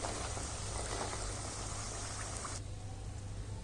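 Rice-flour snacks fry in hot oil with a steady, dense bubbling crackle that stays loud throughout, then thins slightly near the end.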